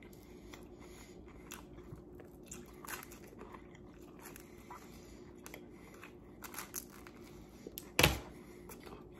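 A few quiet crunchy bites and soft chewing on a thin slice of barbecue pizza, close up, with one sharp crisp crunch near the end and no talking.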